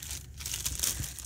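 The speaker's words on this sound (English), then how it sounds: "Take your clay" A plastic bag crinkles in a few quick, soft rustles as air-dry clay is pulled out of it, close by and fairly quiet.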